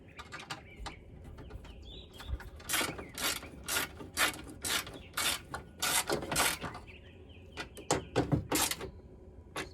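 Ratchet clicks as bolts holding a Nissan Frontier power window motor are tightened, sounding as repeated close bursts of crisp ratcheting strokes in an uneven rhythm, with short pauses between and no talking.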